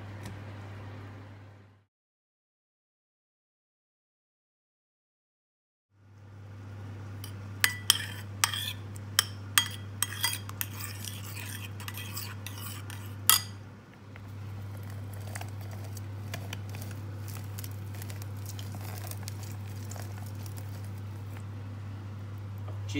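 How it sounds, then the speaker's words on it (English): Lemon zest is grated into yogurt with a quick run of small scraping and tapping strokes, close and fairly faint, over a steady low kitchen hum that cuts out briefly near the start. "I'm going to grate the zest of a lemon into the yogurt"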